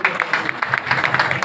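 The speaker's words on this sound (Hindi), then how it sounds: "जोरदार तालियों के साथ" An audience at a political party workshop claps in brief, rapid applause during a welcome for a guest.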